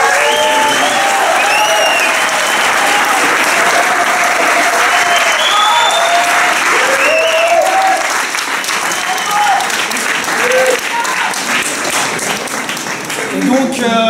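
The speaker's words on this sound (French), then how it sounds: "On peut s'applaudir." Crowd applause at an outdoor climate march in Avranches, loud and sustained with scattered cheers and voices mixed in, easing slightly in the later seconds.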